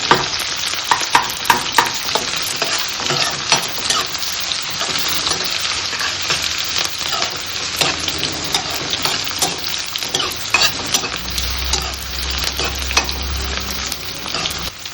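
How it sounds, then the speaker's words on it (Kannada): Onions roast in a pan for a pumpkin palya, a dense close crackling sizzle broken by frequent scraping clatters of a stirring spoon, with a low rumble rising briefly near the end and no voices. "ಈರುಳ್ಳಿ ರೋಸ್ಟ್ ಆದಮೇಲೆ ಟೊಮೊಟೊ ಹಾಕ್ಕೊಳ್ತೀನಿ. ಸ್ವಲ್ಪ ರೋಸ್ಟ್ ಆಗಲಿ."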